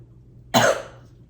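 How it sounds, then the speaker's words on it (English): One sharp, harsh cough bursts out close by, brief and loud, then trails off into quiet. "I just had like a massive like choking, coughing spell"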